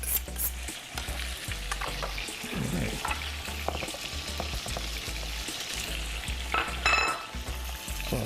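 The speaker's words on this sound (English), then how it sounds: "it's starting to get that nice sear right there" Chicken sears in a hot pan for a Marsala dish, giving a steady, close sizzle and crackle of frying with occasional stirring and scraping noises throughout.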